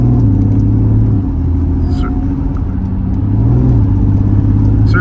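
Mercedes C32 AMG accelerating at quarter throttle, a loud, steady engine drone heard from inside the car with pitch slowly rising and dipping as speed builds.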